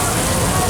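Heavy rain pours down in a dense, even hiss during a Universal Studios Hollywood studio tram tour, a loud and steady wash with no break.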